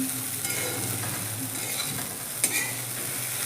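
Sabudana dry-roasting with rock salt in a pan for a fasting-day khichdi, giving a steady soft scraping stir with faint sizzle throughout and one brief sharper clink near the end.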